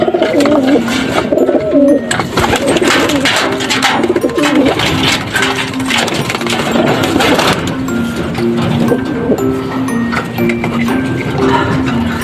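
A racing pigeon arriving from a race coos repeatedly in low, rhythmic phrases up close, with fluttering and scuffling sounds around it and no talking.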